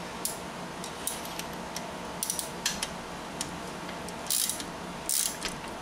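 A ratchet tightens strut nuts on a Honda Civic front strut, producing quick bursts of metallic clicking spread irregularly across the clip, fairly quiet with no talk.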